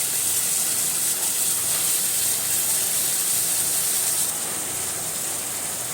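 A splash of water hits a curry of onion, green chili, turmeric and chili powder frying in a pan, giving a steady, even, fairly loud hiss of steam that holds for the whole stretch with no voices.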